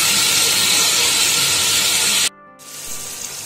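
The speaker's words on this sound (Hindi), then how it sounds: "चिकन को डालने के बाद अब मैं इसको थोड़ा सा फ्राई करूंगी।" Chicken for chicken bhindi sizzles loudly in a hot pan, a dense steady hiss that cuts out abruptly for a moment, then resumes more softly.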